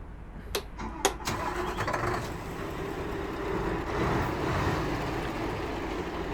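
A Scania 770S truck engine cranks with a few sharp clicks, then catches and settles into a steady, low diesel idle rumble heard from nearby in the cab, with no talking.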